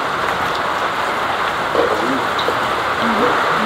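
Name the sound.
rain falling during outdoor meal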